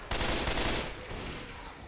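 Loud, dense bursts of rapid automatic machine gun fire in Left 4 Dead 2 crackle through the first second, then taper into a noisy rumble of continued shooting.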